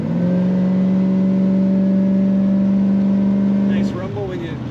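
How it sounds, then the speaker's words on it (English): A 1977 Chevrolet Silverado C10 pickup engine rumbles with a steady low drone on throttle kick-down that holds, then drops off abruptly near the end as the revs change. "Nice rumble when you use that kick down."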